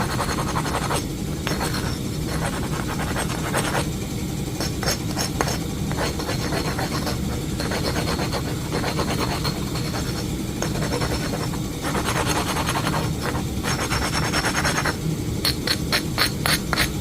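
Flint edge ground during flintknapping with a continuous gritty scraping and rasping, pulsing in short strokes with brief glassy clicks, close and steady throughout, with no talk.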